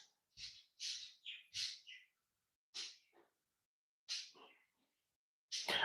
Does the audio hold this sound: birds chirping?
yes